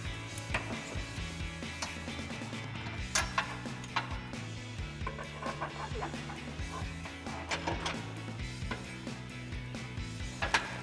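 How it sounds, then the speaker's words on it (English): A 14mm socket and wrench tighten an exhaust hanger nut on a 2021-2023 Ford F-150 exhaust install, giving close, soft ratcheting clicks and metallic taps in irregular bursts. "we can take a 14mm socket and 14mm wrench to tighten it down"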